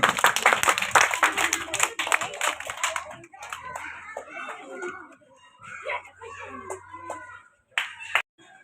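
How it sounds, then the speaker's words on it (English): Audience clapping hands at a flowers day prize announcement, a burst of dense claps at first that thins to scattered slaps under a speaking voice. "Clap your hand all."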